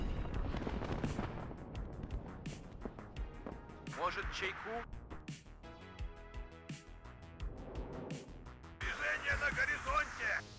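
Artillery fire in the real-time strategy game WARNO, with repeated sharp booms and crackling blasts scattered through a busy battle soundscape while someone talks over it.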